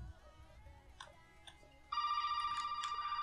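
A telephone rings in the Resident Evil 7 video game, a loud electronic ring that starts abruptly after a quiet stretch with faint clicks and keeps going in a pulsing pattern.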